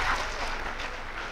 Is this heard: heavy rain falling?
no